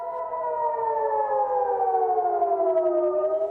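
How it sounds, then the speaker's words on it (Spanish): Civil defense sirens in Jerusalem warn of incoming missiles with a loud, steady wail whose pitch slowly drifts downward, sounding alone with no voices. "en Jerusalén las sirenas no paran de resonar, advirtiendo la llegada de misiles"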